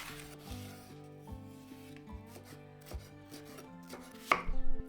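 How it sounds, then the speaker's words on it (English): A knife chops a sweet or hot chili pepper into chunks on a cutting board while shrimp tom yum stir fry is being prepped, giving a run of quiet, steady cuts with a sharper knock near the end, over soft background music. "Cut 1 sweet or hot chili pepper into chunks."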